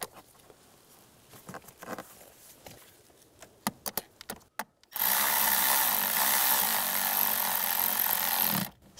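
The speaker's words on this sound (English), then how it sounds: "Snug those down and get the other screw started." A power driver snugs down screws while a blower motor resistor is installed in a 1998-2010 Volkswagen Beetle: light clicks and taps, then one steady, loud buzzing run of about four seconds.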